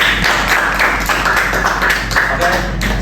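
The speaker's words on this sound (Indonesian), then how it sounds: "Tepuk tangan dulu dong semuanya" Audience applause at an Indonesian inspirational talk event, steady rapid clapping from a room of people throughout, with voices faintly over it.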